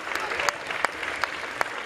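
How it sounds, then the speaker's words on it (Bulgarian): An audience at a stage event gives steady, dense applause for the performers called onstage, with a few sharper claps standing out near the microphone and a voice faintly underneath. "Каня сега на сцената всички участници, за да ги аплодирате."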